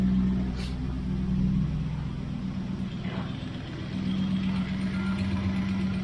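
A 1971 Triumph Stag engine idles steadily after a tune-up, a smooth continuous mid-pitched hum close by with no talking over it.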